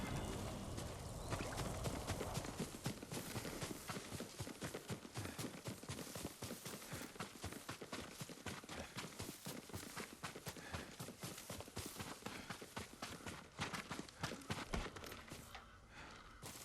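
A horse's hooves clip-clop steadily in the video game Ghost of Tsushima, loud and continuous throughout with dense rhythmic strikes and no talk.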